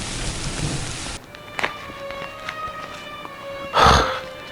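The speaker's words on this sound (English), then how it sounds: "why did it have to rain so heavily today?" Heavy rain pours down as a dense, steady hiss that cuts off abruptly after about a second, leaving quieter dripping and ambience broken by a loud rumbling burst near the end.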